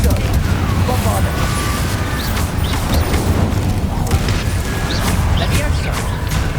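Spell explosions from Confringo and Bombarda cast in Hogwarts Legacy, a dense run of booming blasts and crackling impacts layered over a continuous rumble, with a voice speaking the spell names over them.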